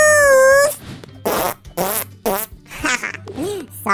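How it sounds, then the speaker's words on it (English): A loud, close fart sound effect from a Roblox game, a long buzzy blast followed by several shorter sputtering bursts in an uneven run. "Sorry about the farting."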